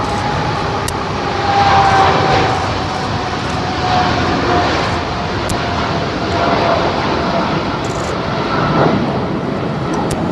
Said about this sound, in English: Air Force One taking to the skies